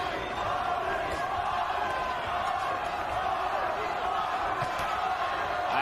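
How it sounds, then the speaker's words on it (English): A boxing crowd in Fort Worth, Texas, chanting a fighter's name: a dense, continuous roar of many voices held at a fairly even level throughout, heard at a distance. "Ayala's crowd from Fort Worth, Texas, chanting Paulie, Paulie, Paulie."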